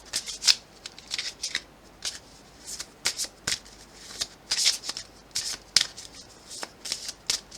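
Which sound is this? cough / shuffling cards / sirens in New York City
shuffling cards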